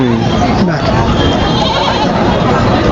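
A goat bleats among the noisy crowd at the Atpadi sheep and goat market, a wavering cry partly buried under constant loud chatter and background din.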